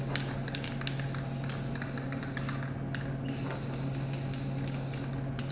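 Aerosol spray paint hisses steadily and close up, coating a Ford Raptor SVT F-150 RC body shell in black, with a couple of brief pauses in the spray.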